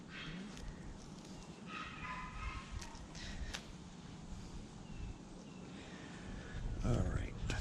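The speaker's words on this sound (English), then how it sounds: "Gosh, sounds like a dog kennel." Several dogs bark in a garden, with scattered yips and barks at a moderate distance breaking over a low background, plus a few quick louder bursts near the end.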